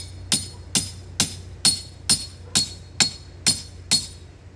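Nine evenly spaced, sharp metallic hammer strikes drive a hurricane strap spike, each crisp impact ringing briefly against a low steady hum, with no talking.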